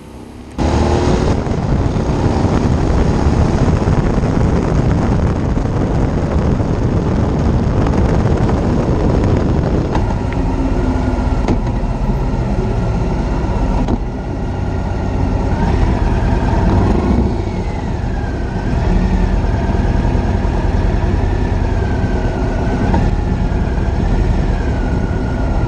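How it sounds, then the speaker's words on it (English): A Harley-Davidson Fat Bob with a Milwaukee 8 engine idling, with its intake sound prominent: a steady, loud, even low rumble that holds without a break throughout, close and with no talking over it. "sound of the intake as the Milwaukee 8 idled nicely"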